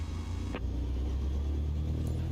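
A simulated aircraft engine in Microsoft Flight Simulator hums as a low steady rumble while the throttle eases up for taxi, with a short rustling click partway through.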